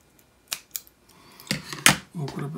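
Scissors make a few quick snips through material that has been glued, as for a home-made micro sander, the cuts coming as sharp close crisp clicks and rasps with short pauses between them and no voices.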